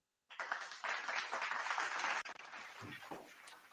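An audience bursts into steady clapping for a guest on a live talk show, the applause beginning abruptly and holding dense and even before thinning into a few scattered claps near the end.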